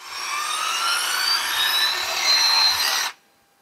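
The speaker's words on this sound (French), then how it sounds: "Donc là, je perce. Elle s'arrête automatiquement." A Bosch GBH 18V-45C BiTurbo cordless rotary hammer drills with a loud, steady high-pitched whine for about three seconds, then cuts out abruptly as its auto-stop kicks in, leaving near silence.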